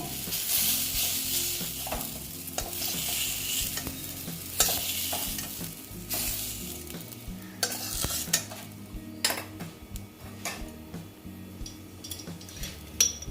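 Bitter gourd pieces fry in hot oil with turmeric, a continuous loud sizzle broken by repeated scrapes and clacks of a spatula stirring them in the pan, with no talking.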